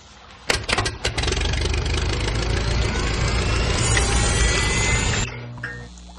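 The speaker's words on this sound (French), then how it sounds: "C'est pour cela que j'ai construit une pompe à biogaz." A homemade biogas pump cranks and starts with a few sharp bangs, then runs as a loud, steady engine-like drone for several seconds before cutting off abruptly.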